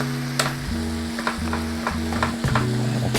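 Ground turkey meat sizzles in a pan with a steady close crackle, broken by scraping stirs and clinks of a utensil against the pan, with no voices.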